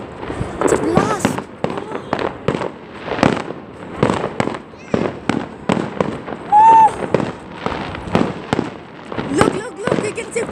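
Fireworks go off as a rapid, dense run of bangs and crackles with a brief whistle midway, while excited voices talk and exclaim over them throughout.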